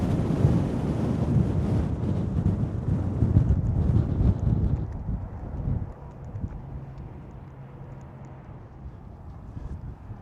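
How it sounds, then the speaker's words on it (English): Strong desert wind buffets the microphone at the Yuma long-term visitor area, a loud, close roar that stays heavy for several seconds and then drops to a softer, steady rush. "Wow, it is super windy."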